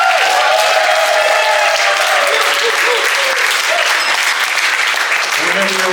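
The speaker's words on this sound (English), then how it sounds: "let's give one more round of applause" Wedding guests break into loud, sustained applause at a reception, a thick wash of clapping from a full room, with a few cheers and voices rising through it.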